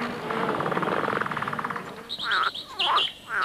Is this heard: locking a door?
no